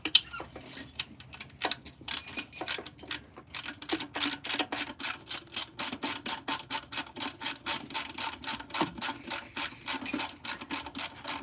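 A ratchet wrench clicks rapidly and rhythmically during an Edelbrock intake manifold swap, long runs of crisp close ratcheting strokes after a brief metallic jingle at the start.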